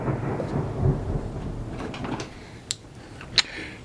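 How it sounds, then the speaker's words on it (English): A broad, low rumble of thunder rolls through the clip during a storm, with a couple of sharp cracks near the end, steady and moderately loud with no talking. "We have some thunder and lightning today."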